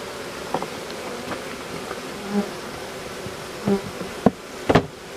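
Steady honeybee buzzing fills the air around a hive in Poland, with a few short knocks and taps near the end.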